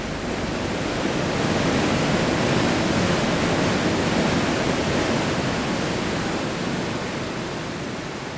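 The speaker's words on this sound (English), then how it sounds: "rush down this powerful river" A powerful river roars at falls in Labrador about eight miles upriver from the ocean, a dense, constant wash of rushing water, loud and unbroken throughout with no voices.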